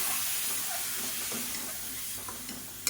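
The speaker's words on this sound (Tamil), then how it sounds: "இப்போ இந்த முட்டை எல்லாத்தையுமே இதில் சேர்த்து நல்லா வறுத்துக்கலாம்" Eggs frying with masala in a pan, a steady close sizzle and hiss with faint stirring scrapes and a small clatter at the very end.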